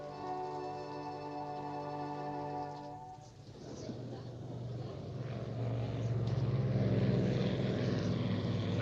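A BWIA Vickers Viscount propeller airliner at an airport hums with a steady tonal engine drone, then swells into a louder, rising broadband roar.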